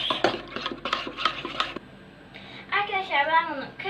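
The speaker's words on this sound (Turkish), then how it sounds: "Arkadaşlar bunun tortu kalmayacak şekilde tortu kalmayana kadar karıştırıyoruz." A spoon stirs a drink mixture in a pot, with a quick run of metallic clinks and scrapes at the start, followed by a voice speaking close by.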